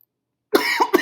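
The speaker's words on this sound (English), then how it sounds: "can't stop coughing." A person coughs in a short burst of two or three rough, close hacks after a moment of silence.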